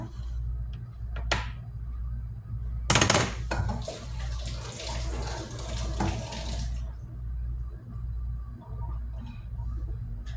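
Tap water runs into a sink while raw chicken is washed, with a low steady gurgle, a few splashy bursts and one louder rush of water in the middle.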